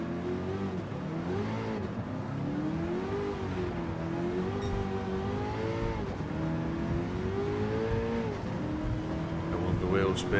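A Toyota Hiace van with a swapped LS7 engine in Gran Turismo 7, its engine droning and revving in rising and falling sweeps under steady race noise for about ten seconds.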